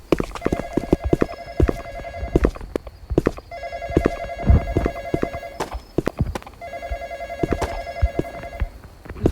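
Repeating electronic telephone ring in a woodland video game, three patterned bursts of ringing spaced evenly, mixed with clip-clop hoof-like knocks and clatter throughout at moderate level.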